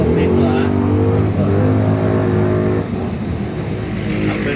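Motorcycles passing on a road, a steady loud engine drone close by that eases off partway through, with people talking over it.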